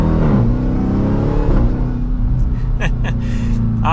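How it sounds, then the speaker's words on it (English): A 2023 Dodge Durango SRT Hellcat, black with all-wheel drive, pulls away in a deep, steady engine drone heard from inside the cabin, the pitch climbing slightly as it accelerates, with faint voice sounds over the hum. "we are setting off now in the Hellcat"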